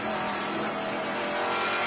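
Trans Am race car braking hard from about 182 mph, a loud, dense engine and tire roar that stays continuous and close, with no talking.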